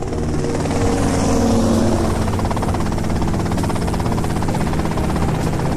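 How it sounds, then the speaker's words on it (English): Helicopter rotor and engine drone in GTA Vice City, a loud, steady buzzing thrum sustained for about six seconds with no voices over it. "that's them in the chopper"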